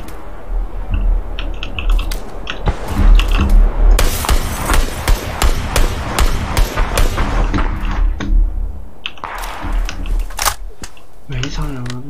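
Gunfire in a shooter video game, with rapid bursts of sharp cracking shots and clattering hits in dense clusters, loud and close, while a voice talks over the action.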